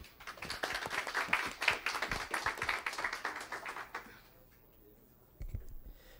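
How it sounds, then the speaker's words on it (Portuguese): Clapping from people at a public hearing, a moderate burst of applause lasting about four seconds before fading, with a few scattered claps and a voice near the end. "Ele merece uma salva de palmas, nosso vereador."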